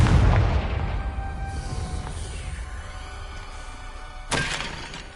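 Confringo blasting spell from Hogwarts Legacy: a heavy booming blast at the start that rumbles and decays, with a second sharp crack-like burst near the end, no voices.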